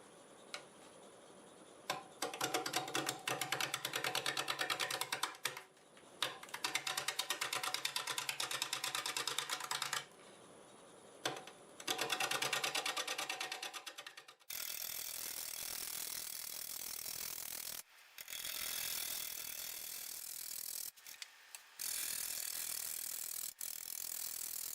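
A large wood burl spinning on a lathe at about 550 RPM is worked with a gouge, giving steady loud scraping and chattering that cuts in and out in bursts, then shifts to a harsher continuous grind.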